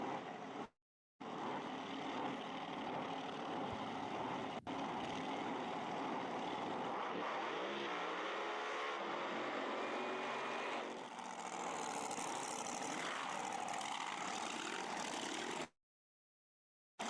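Fuel altered drag racing cars at Tucson Dragway fire up, a loud steady engine roar filling the air with a wavering, rising tone through the middle, then cutting off abruptly.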